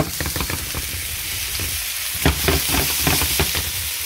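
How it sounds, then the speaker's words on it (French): Octopus pieces, artichokes and kumquats roast in a pan over medium heat, giving a steady, close sizzle with scattered crackles and soft stirring clatter throughout. "Là on laisse environ rôtir 5 minutes à feu moyen"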